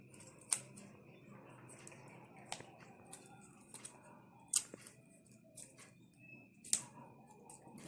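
Scissors snip a plastic straw into a triangle shape in a quiet room, three or four sharp, isolated clicks spaced a couple of seconds apart over soft background noise.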